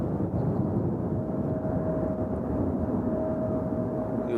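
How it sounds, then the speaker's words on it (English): A large Delta airliner on approach to Nashville airport makes a steady low roar with a faint high whine over it, continuous and fairly distant, with no voices. "the big Delta coming in from Atlanta right there"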